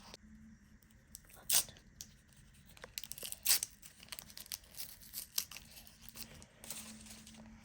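A pink paper sticker packet being torn open in a few sharp rips with crinkling between, close and fairly quiet, no talking.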